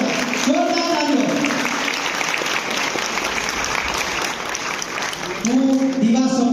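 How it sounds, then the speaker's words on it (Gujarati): Audience applause at a film screening event in Brisbane, Australia, sustained and dense for several seconds, with a voice speaking over the clapping at the start and again near the end. "જોરદાર તાળીઓ"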